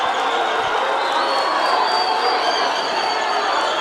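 Audience applause at a public hearing on a basic education amendment bill, a steady dense wash of clapping hands filling the room throughout, loud and continuous with faint crowd murmur.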